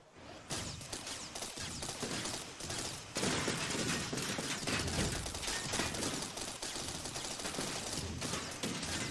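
Sustained gunfire from a player's armed tech in the vehicle-building game TerraTech on Xbox One, dense rapid bursts running continuously and loudly throughout, mixed with mechanical clanks and impacts, no talking.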